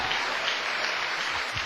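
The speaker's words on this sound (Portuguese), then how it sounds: "Quem pode dar uma outra salva de palmas?" An audience claps in church, a dense, continuous wash of applause filling the short moment without talk.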